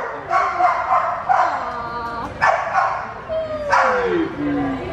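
Several household dogs bark and whimper in short yips and whines, repeated in bursts of about one per second, close by and fairly loud.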